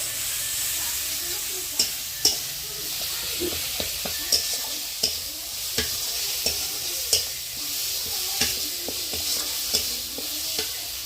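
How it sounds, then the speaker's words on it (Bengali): A spice paste of ground green chilli and garlic fries in oil in a pan on a clay-pipe stove. It sizzles and hisses steadily, and a utensil stirs and scrapes with regular sharp clinks. "কাঁচা লঙ্কা পিস করাটা দিয়ে মশলাটা তেলে হালকা ভেজে নেব"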